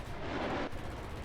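Harrier GR.7 cannon firing in a flight combat video game, a single short dense burst of gunfire lasting about half a second, loud and close, with engine drone continuing underneath.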